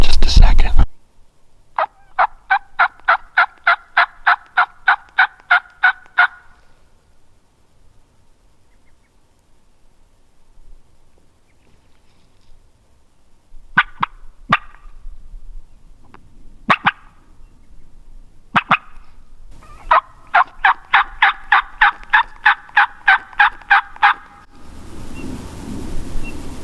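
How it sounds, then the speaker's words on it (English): Merriam's wild turkeys gobble during a public-land mountain hunt, with loud rapid bursts of clucking gobbles separated by silence and scattered sharp single calls in between. "Other turkeys are gobbling around us."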